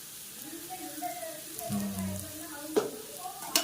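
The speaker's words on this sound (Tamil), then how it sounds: "சால்ட்டு போட்டு மறுபடியும் நல்லா கிண்டிக்கலாம்" Chicken liver fries in a pan with salt while being stirred, a soft close sizzle with scraping strokes and two sharp spoon knocks near the end.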